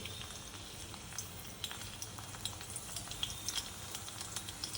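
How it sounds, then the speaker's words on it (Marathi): Crushed garlic dropped into well-heated oil for a spicy village-style black chicken curry, giving a soft, steady sizzle and crackle that runs close by throughout, fairly quiet, with no talk. "तेल चांगलं तापलंय. आपण ठेचलेला लसूण टाकूया याच्यामध्ये."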